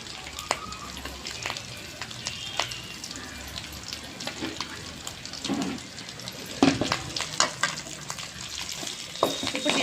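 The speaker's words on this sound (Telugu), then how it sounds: "ఇదంతా దీంట్లో వేసి కొంచెంసేపు మనం ఫ్రై చేద్దాము." Chicken with coriander frying in oil, a lively crackling sizzle broken by frequent scraping stirs and clinks, with a brief murmur of talk beneath.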